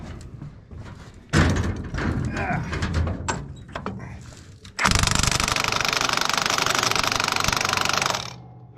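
A Milwaukee power tool working on bolts during an excavator repair at a depot, with loud rattling bursts followed by a sustained, harsh mechanical whirring hammer at close range that cuts off near the end.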